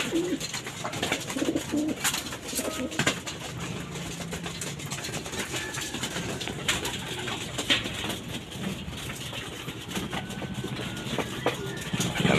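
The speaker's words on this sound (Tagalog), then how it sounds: "Ayan, kakain ulit yung mga kalapatids." Racing pigeons coo steadily while feeding, soft repeated coos layered close over a continuous background rumble, with no one talking.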